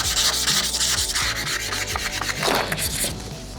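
Hard scraping of frost off a frozen door ahead of painting a street mural, a loud close run of rough rasping strokes in quick rhythm, no talk.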